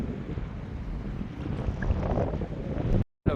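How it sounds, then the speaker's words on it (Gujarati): Strong wind roars steadily over the sea aboard a fishing boat, with broadband rushing and buffeting of choppy waves throughout and a brief dropout near the end. "પવન એટલો છે ને મોજો થઈ ગયો દરિયામાં."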